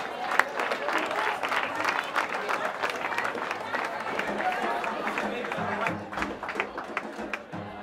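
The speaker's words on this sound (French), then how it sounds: "Merci d'applaudir les Morgan." Jazz festival audience applauding performers at the Altitude Jazz Festival, with dense, steady clapping from a sizable crowd throughout, joined near the end by a low voice under the applause.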